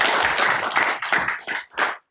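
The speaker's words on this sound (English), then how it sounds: "I think this deserves a round of applause for the work you have done." A round of applause at a city council meeting, with a small group clapping briskly and close by for about two seconds. The clapping thins out quickly and then stops.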